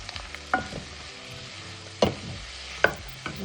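Jamaican pumpkin rice is stirred in a single pot, with a soft sizzle underneath and a few sharp scraping knocks of the spoon against the pot, spaced irregularly, close and without speech.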